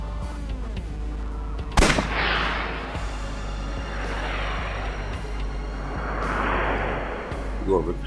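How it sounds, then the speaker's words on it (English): A single sharp gunshot in AI: The Somnium Files, fired at a test dummy, cracks loudly near the start over a steady game backdrop; voices talk before and after it. "I'll try shooting it."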